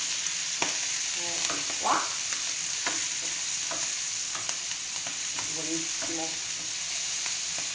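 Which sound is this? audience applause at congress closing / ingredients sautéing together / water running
ingredients sautéing together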